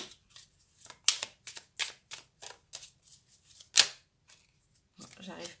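Oracle cards being shuffled and drawn by hand, giving soft papery riffles and flicks with a few sharper snaps, close and intermittent, with brief quiet gaps between bursts.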